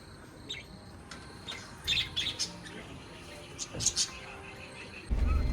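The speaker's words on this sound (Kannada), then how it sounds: "ಬರ್ಡ್ಸ್ ನೋಡಿ ಎಷ್ಟು ಕ್ಯೂಟಾಗಿದೆ." Birds chirp and tweet in the morning at Varkala, Kerala, as scattered bright calls over steady outdoor background noise, with a heavy low thump at the very end.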